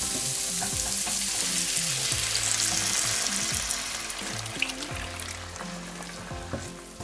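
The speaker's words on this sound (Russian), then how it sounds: "Теперь заливаем все это бульоном." Broth poured over onions in a pan for German potato salad sizzles and bubbles steadily, a close, continuous frying hiss with soft stirring and clinking that eases slightly toward the end.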